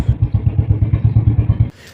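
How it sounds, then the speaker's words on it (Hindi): A Royal Enfield Bullet motorcycle engine idles in gear with its deep, even thump of about seven beats per second, loud and close, before cutting out abruptly near the end. "बाइक गियर में और चल रहा है"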